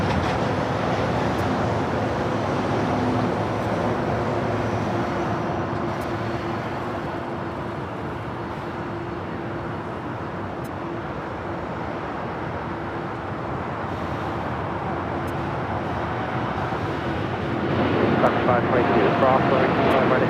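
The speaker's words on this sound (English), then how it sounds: "Aero Mexico Dreamliner heading back to Mexico City. Now rolling down." Aeromexico Boeing 787 Dreamliner jet rolling down runway 25 right at LAX, a steady broad engine roar holding throughout and swelling toward the end, with voices talking over it.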